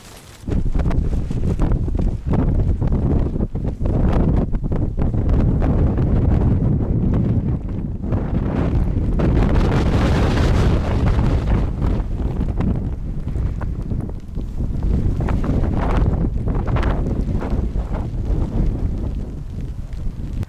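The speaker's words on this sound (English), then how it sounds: "The wind's picking up." Strong wind buffets the microphone on an exposed hillside campsite in the Kilpatrick Hills. It makes a loud, continuous roar with gusty surges throughout and no talk.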